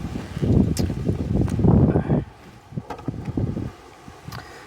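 Strong outdoor wind gusts buffet the microphone with a loud, rough rumble for about two seconds, then ease into lighter, fluttering bursts; no one speaks.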